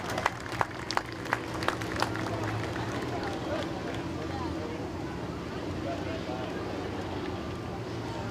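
A crowd at Midvale Speedway's victory lane claps for a race winner: a few sharp claps at first, then sustained, fairly distant applause with a voice faintly underneath.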